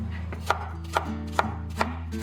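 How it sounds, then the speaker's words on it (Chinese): A knife chopping carrots on a cutting board while preparing curry, five crisp, evenly spaced thuds about half a second apart, close and clear with no talking. "胡萝卜也一样，给它切切。"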